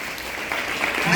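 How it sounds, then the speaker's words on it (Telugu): Audience applause at a school prize ceremony for top SSC students, a brief burst of steady clapping from a crowd that swells slightly toward the end. "క్లాప్స్ కొట్టాలి."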